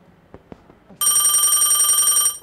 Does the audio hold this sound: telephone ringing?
yes